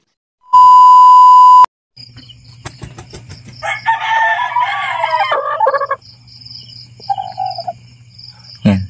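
Young chicks cry out at night in a series of shrill, clustered chirps, close by. A sharp electronic beep comes first, and a steady low hum runs underneath.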